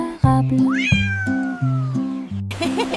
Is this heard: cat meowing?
yes